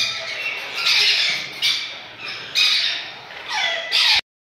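Eclectus parrot chicks at a Sunday bird market in Bahawalpur let out loud, harsh squawks, about five in a row, each lasting about half a second, close and rasping with no talk over them.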